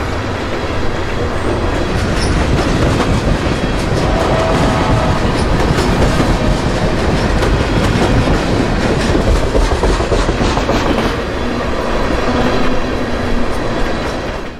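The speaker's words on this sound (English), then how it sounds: "here is B240, coming north out of Tampa with ethanol empties, headed for Cicero, Illinois." A CSX freight train of empty ethanol tank cars rolls northbound out of Tampa, its loud, steady rumble and clickety-clack of wheels continuing close by throughout without letup.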